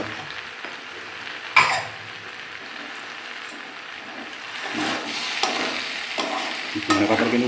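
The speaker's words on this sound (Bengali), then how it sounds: "মশলাগুলো ভাজা ভাজা হচ্ছে" Spices and coriander leaves frying in oil for pumpkin chhokka, a soft continuous sizzle broken by several sharp scraping stirs of the spatula against the pan.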